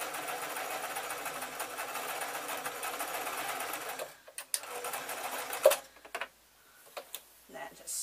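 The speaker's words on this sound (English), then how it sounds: "The more times you can sew over this, the better." A sewing machine stitches back and forth over the fabric of a tote bag, whirring steadily and close for about four seconds before stopping, followed by a few faint clicks and handling noises.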